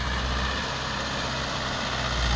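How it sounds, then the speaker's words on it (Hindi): A Mahindra 575 tractor engine running in second low gear gives a loud, steady, low diesel drone with a coarse rumble, close by and unbroken, with no talking. "जैसे ही दूसरा लो लगाएंगे तो चाल बहुत ज़्यादा तेज, एकदम से ट्रैक्टर भागने ही लगता है"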